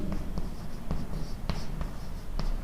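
Chalk taps and scratches across a classroom board in quick short strokes, several sharp clicks spaced through a brief moment of writing, close and clear with no talking.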